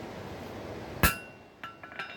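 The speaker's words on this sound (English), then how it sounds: "I don't like using such a heavy hammer, but it has the right end on it." A heavy 4-pound hammer strikes metal once in a sharp, loud ringing blow while a decorative hoof pick is being made, followed by a couple of fainter clinks, with no talking.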